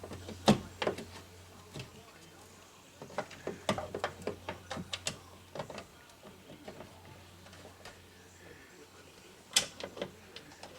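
Ratchet clicking while bolts are reinstalled on a Subaru Outback power window motor, heard as scattered bursts of quick mechanical ticks with short pauses, fairly close but moderate in level over a low steady hum.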